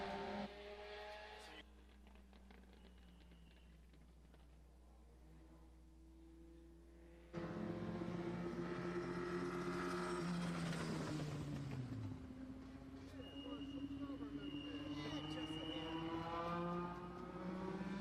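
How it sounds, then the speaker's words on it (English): Race car on track during qualifying at Madera Speedway, its engine droning at a distance and rising in pitch as it accelerates past, with commentary running over it. "Third car coming out for the INEX Legends"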